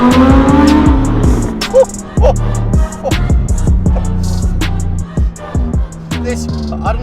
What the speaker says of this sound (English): I don't know what it is with the Huracan, but it accelerates just like nothing else